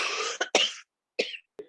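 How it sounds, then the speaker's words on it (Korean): A woman's short fit of coughing, several harsh close coughs in quick succession with a brief pause before two more, loud and alone. "한번 기침이 발작성을 이렇게 뭔가 딱 걸리게 되면 통제가 안 돼"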